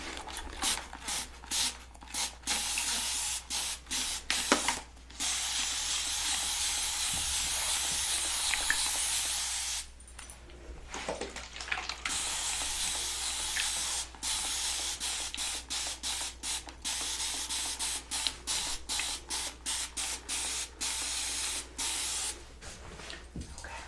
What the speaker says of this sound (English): I'm gonna get started by just spraying your hair, giving it a quick brush.